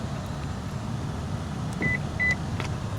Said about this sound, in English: when it does that double beep